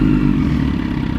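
A V6 motorcycle engine revs close by, a loud, deep and rough mechanical rumble that pulses steadily through a brief moment.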